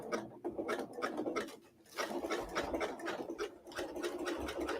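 A sewing machine stitches over a chenille stem laid on fabric, making a fairly quiet, steady run of fine rapid needle clicks that pauses briefly once and then carries on, with no talk.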